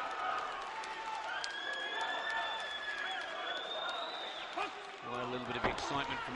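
Boxing crowd at an AIBA World Championships flyweight bout, Russian versus Cuban, murmuring and cheering steadily in a large arena, a brief excited swell rising near the end, with a commentator talking over it.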